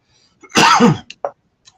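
A single harsh cough, close and loud, followed by a couple of short throat-clearing bursts and a faint trailing noise.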